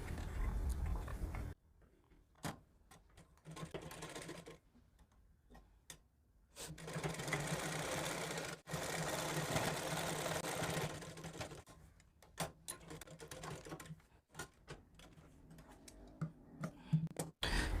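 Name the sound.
sewing machine stitching a folded blouse hem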